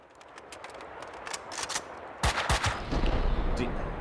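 Gunfire from the Max Payne 2 video game, a burst of shots that grows heavier in the second half, with several sharp reports over a steady background.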